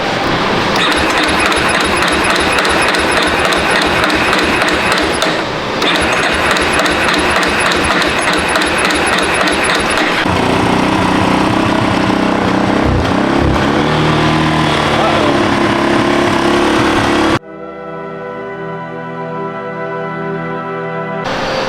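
Yamaha Warrior motorcycle engine just repaired after a stuck throttle cable, running loud and steady with a busy rhythmic clatter, then the tone drops and shifts before a sharp change to a cleaner, buzzier idle near the end.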